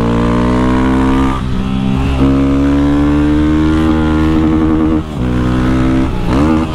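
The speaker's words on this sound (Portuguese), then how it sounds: "Vou dar outra arrancada pra vocês verem." A Honda CG Start 160 motorcycle running on mixed ethanol fuel pulls away hard, its engine note climbing loud and close through several gear changes.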